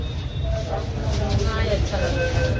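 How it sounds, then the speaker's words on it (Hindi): Steady low rumble and rattling of a Delhi metro train in motion, a continuous rolling roar from inside the carriage. "मालती, मेट्रो में बैठ के कैसा लग रहा है?"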